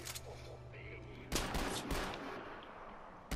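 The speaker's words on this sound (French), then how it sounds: "reste un mec qui me tire dessus" Gunfire in the Far Cry 4 video game, a burst of loud rapid shots cutting in over background game noise, with further cracks following close behind.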